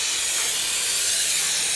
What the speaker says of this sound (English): just with brake cleaner